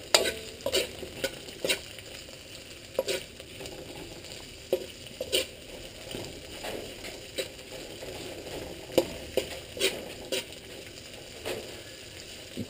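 Onions fry in a nearly twenty-year-old wok for pancit canton, giving a low continuous sizzle under frequent sharp scraping and tapping strokes of the stirring utensil, close and without talk.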